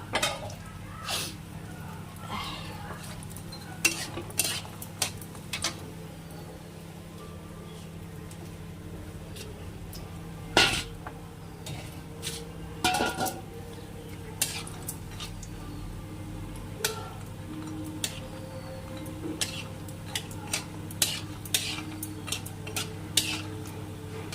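Homemade urad dal bori fry in a pan amid a soft constant sizzle, while a spatula scrapes and knocks against the metal in scattered sharp clicks, with a low steady hum underneath; no talk.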